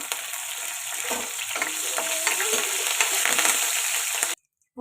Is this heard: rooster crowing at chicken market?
no